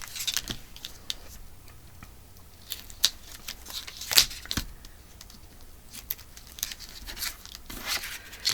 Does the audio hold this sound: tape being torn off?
yes